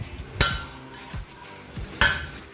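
Hammer blows tapping a steel steering ball race bearing into the headstock of a Honda Click V3 scooter, two sharp metallic strikes with ringing clinks, plus a few softer knocks between them, close and alone.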